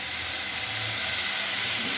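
Steady, loud hiss of potatoes and cauliflower frying in a pan, a continuous sizzle with no break and no talking.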